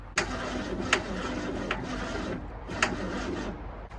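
A 1966 Ford Mustang, sitting unused for 16 years, cranks over with a noise from the bell housing, heard close and fairly quiet as a series of sharp, irregular clunks and rattles over a low churning drone.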